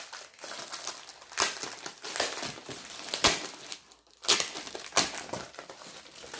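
Vinyl packaging for a Cricut Maker 3 cutting machine being unwrapped, with loud close crinkling and crushing of plastic wrap in repeated bursts and brief quiet gaps between them.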